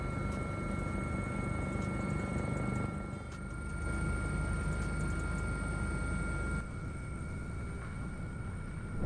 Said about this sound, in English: Helicopters rush to evacuate oil rigs in storms that even technology cannot withstand.